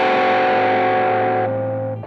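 A Danelectro U2 electric guitar rings out a single sustained, slightly gritty chord that decays slowly over about two seconds before being cut off, close and loud with no voices.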